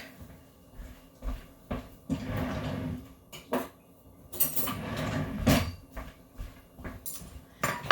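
In a home kitchen, someone picks out a fork, with close clinks and clatters of cutlery and the knocks of a drawer or cupboard, scattered across the stretch with no talk.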